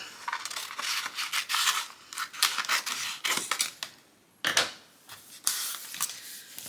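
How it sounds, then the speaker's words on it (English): Scissors trim a sheet of vinyl transfer tape in a series of crisp snipping and crinkling strokes, close and loud, with a short pause before the cutting resumes. "I'm going to trim this down because I don't want to waste any of this transfer tape"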